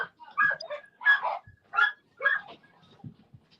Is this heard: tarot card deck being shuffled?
no